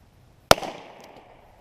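A single sharp gunshot from a 7.62 Nagant revolver fired at a beer can outdoors, one loud crack with a short decaying echo, no talking.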